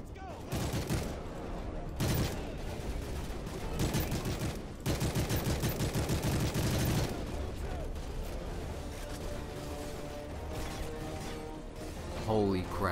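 Gunfire in the video game Call of Duty: Modern Warfare 3 rattles in dense automatic bursts and scattered shots throughout, loud and continuous, with voices talking over the action.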